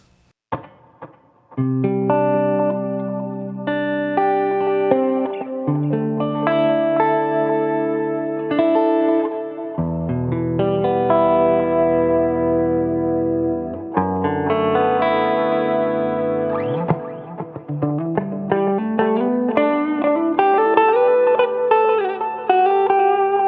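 A distorted electric guitar through a Helix 3.50 plays sustained notes and chords, drenched in reverb and echo, with no talking.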